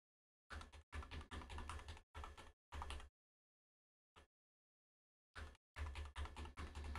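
Keys clatter on a computer keyboard as a password is typed during a Windows Server 2022 setup, short quick bursts of close clicking separated by silent pauses, with no talking.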